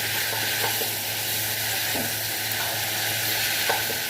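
Fish and potato pieces frying with masala in a pan give a steady sizzle, with occasional soft stirring scrapes over a low hum.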